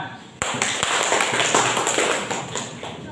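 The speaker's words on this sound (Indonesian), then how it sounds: "Ya, tepuk tangan." A classroom of students breaks into applause at the end of a group presentation. The dense, steady clapping starts abruptly and continues at close range for about three seconds.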